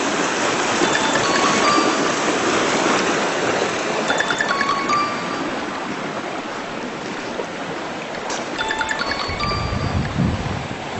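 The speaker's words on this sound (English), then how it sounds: "The update of the floodwaters of Chattahoochee Creek." Rushing floodwater of the flooded Chattahoochee Creek near a bridge, a steady broadband roar that continues throughout with light wind buffeting, and no talking.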